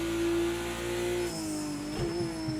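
A BMW 1M race car in Project Cars 2 on the Bathurst circuit holds a loud, steady engine drone, then a gear change drops the pitch and it climbs again with the revs.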